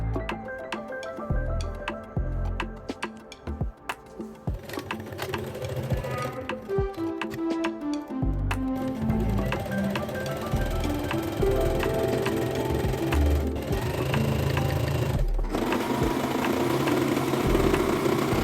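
A home sewing machine stitches the inseams of wide-leg pants, a steady close mechanical hum with a rapid repetitive needle rhythm that runs throughout, alone with no voices.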